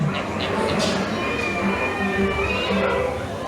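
A cat meows at Magic Kingdom theme park, its cries partly buried under steady crowd noise and nearby voices.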